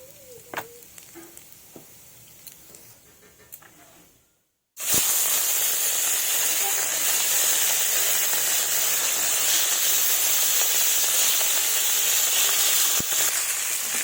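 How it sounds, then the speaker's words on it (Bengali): Rohu fish pieces drop into hot mustard oil in a kadai, setting off a sudden loud, sustained hiss and sizzle that holds steady close by after a few quieter moments of kitchen clatter. "কড়াই বসিয়ে নিয়েছি, মাছগুলো ভেজে নেব।"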